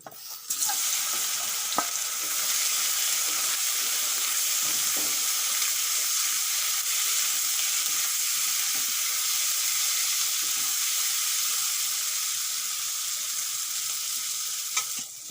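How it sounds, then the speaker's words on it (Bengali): Spiced soybean chunks fry in a pan with a loud, steady sizzle that runs unbroken from start to finish, broken only by a few faint stirring clicks, with no voices. "এখন দিয়ে দেবো মশলা মাখানো সয়াবিন"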